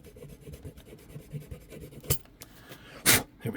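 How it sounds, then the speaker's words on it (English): A hobby part having a slot cut into it on a hobby bench, heard as quiet scratchy rasping strokes with two sharper louder scrapes near the end, close up and with no talk. "I just want to cut a slot into it"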